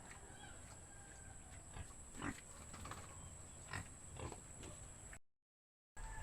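Pig grunting in its pen, several low, scattered grunts and snorts that are faint and distant over a steady background hum, cut off by a short silence near the end.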